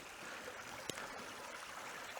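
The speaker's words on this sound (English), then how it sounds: "here's another water source" A small stream in an Irish rainforest trickles and gurgles steadily, a soft continuous wash of water heard alone, with a single brief knock partway through.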